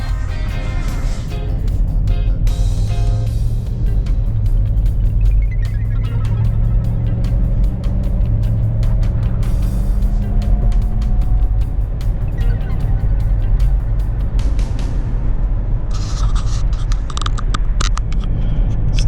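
A Range Rover Sport HSE with a 4.4-liter naturally aspirated V8 accelerates, a loud close engine roar rising steadily as it pulls, with some road and tire rumble and a brief lull partway through.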